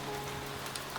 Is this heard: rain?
yes